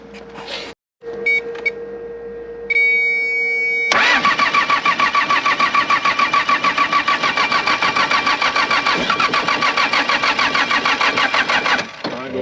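After glow plugs warm, an ATV engine cranks with a rapid, rhythmic chugging starter that runs loudly for several seconds before the motor catches and settles.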